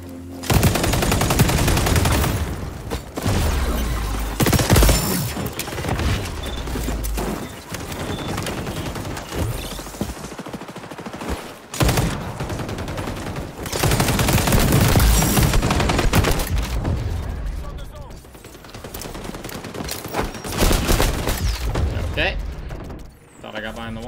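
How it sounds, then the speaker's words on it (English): Rapid automatic gunfire from a gun in the online shooter XDefiant, firing in loud sustained bursts with brief pauses between, layered with game effects and a voice talking over it. "that gun fucking rips"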